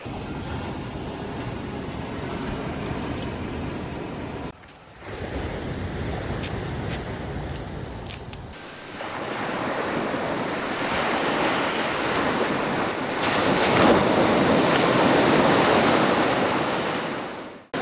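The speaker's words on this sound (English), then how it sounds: "The sound of the waves." Ocean waves wash steadily onto a beach, a continuous surf roar with wind buffeting the microphone, swelling louder toward the end.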